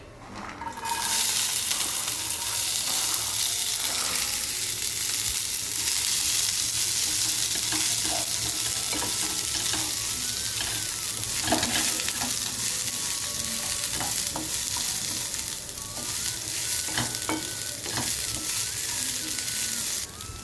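Cluster beans and lentil usili sizzle and crackle steadily in hot oil, a dense continuous frying hiss with occasional small pops and stirring clinks throughout.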